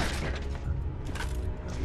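In Gears of War 2, an explosion blows a hole in a roof, a low, rumbling boom with thudding debris that stays fairly quiet and steady for a couple of seconds.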